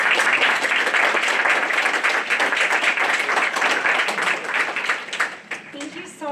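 Audience at a talk applauding three presenters, dense steady clapping that carries on for several seconds and then thins out and fades.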